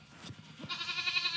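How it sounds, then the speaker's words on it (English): Baby goats bleat in a pen of young bucks, a short quavering wavering cry rising out of soft rustling and growing louder, near and alone with no talk. "Little baby goats are nice to everybody."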